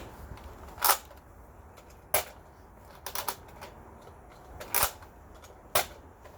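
A Nerf blaster firing foam darts indoors, six or so sharp snapping clicks spaced irregularly, a couple in quick pairs, against a quiet background.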